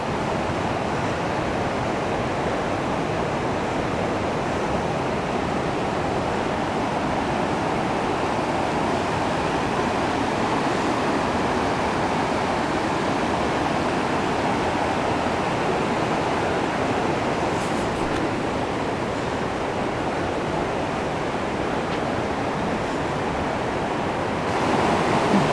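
Ocqueoc Falls in Millersburg, Michigan rushes continuously, a broad steady wash of falling and flowing river water heard up close for a long stretch, with no voices.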